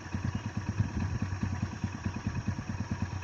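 Hero Splendor motorcycle engine idling with a steady, rapid chugging pulse, moderately quiet and alone with no talking.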